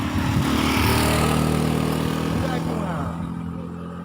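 A motorcycle engine labours uphill in a steady, loud drone that holds near and constant, with its pitch shifting slightly as it climbs, and talk mixed in underneath.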